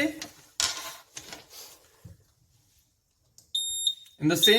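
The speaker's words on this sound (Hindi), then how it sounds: "डिवाइस कंटिन्यूसली शॉर्ट बीप देके यूजर को अलार्म देगा" After some faint talk and clatter, a Swarn Jal A-SE20M water tank level sensor alarm gives a high electronic beep briefly, followed by louder speech.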